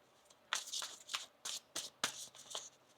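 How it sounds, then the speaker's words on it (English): Tarot cards being shuffled by hand, a run of crisp riffling bursts coming in short separate bouts, close and fairly soft with no talk. "One more shuffle here."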